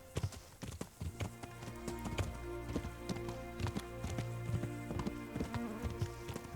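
Horse hooves clip-clop steadily up a steep slope in the medieval game Kingdom Come: Deliverance, a close, even trotting rhythm of hollow knocks that runs through the whole stretch with no talk over it.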